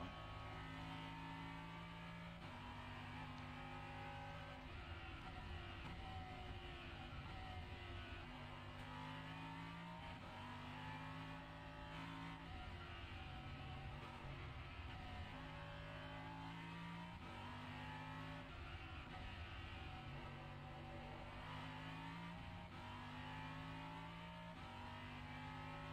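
An iRacing sim race car screams through repeated gear changes, its engine note climbing and dropping in a steady rhythm of acceleration and shifts, loud and continuous with no talking.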